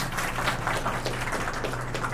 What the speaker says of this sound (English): A big round of applause for it.